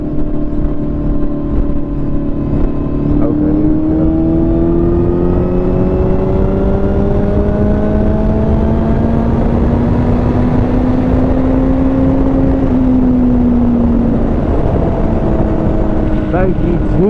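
Riding a 2007 Kawasaki Ninja behind semi trucks on the highway brings a loud, constant roar of wind buffeting under a droning engine whose pitch slowly rises and falls.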